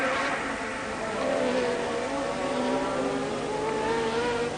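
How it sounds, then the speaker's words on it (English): 1983 Formula 1 turbo cars race at Spa in Belgium, including a Ferrari V6 turbo and a BMW straight-four turbo Brabham. A continuous, dense engine roar holds steady for the whole stretch with no pauses. "It's a V6 turbocharged car, the Ferrari. It is a straight 4 turbocharged car, the BMW turbo-powered Brabham of Nelson Piquet"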